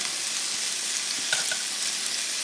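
Canned Del Monte corn with a dash of pepper and a pat of butter simmers in a pot on the stove, giving a steady close hiss and soft bubbling sizzle with no voices.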